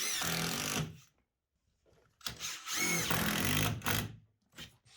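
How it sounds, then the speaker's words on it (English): A power drill drives screws diagonally into wooden floor joists during a Japanese tatami room renovation: a loud whirring burst, a pause of silence, then two more whirring bursts ending with a short one, heard up close without speech. "To prevent the wood from splitting, we'll drive screws diagonally at an appropriate distance."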